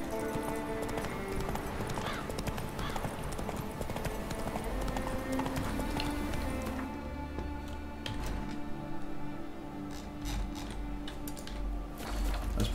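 Hooves of the horse in The Witcher 3 pound in a quick, regular clip-clop gallop, close and steady for the whole stretch, with game ambience and occasional brief clicks around it.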